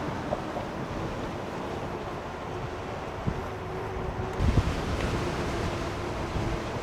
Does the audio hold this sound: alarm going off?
no